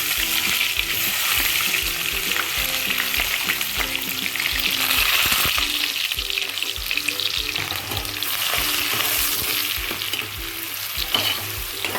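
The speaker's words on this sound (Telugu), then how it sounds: "ఆనియన్స్, మిర్చిని ఇప్పుడు ఈ ఆయిల్లో వేసేస్తున్నాను." Sliced onions and green chillies crackle in hot oil for a sustained, loud, close sizzle, with repeated spatula scrapes and knocks throughout and no speech.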